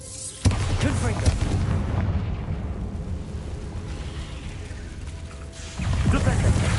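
A Confringo spell explosion in the video game Hogwarts Legacy bursts with a sudden loud boom, then a rumbling roar that fades and swells again near the end.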